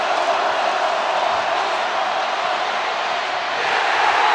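Stadium crowd at a Georgia Bulldogs college football game, a broad, steady roar of cheering that holds level throughout, with no distinct voices standing out.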